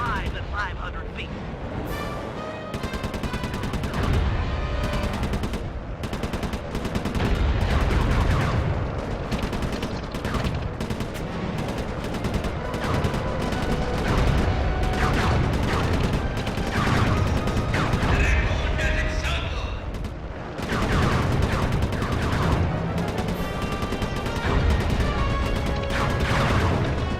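Gunfire and crashing explosions in the video game Sly 3: Honor Among Thieves, a dense, loud, continuous barrage of shots and blasts layered with game music and voices throughout.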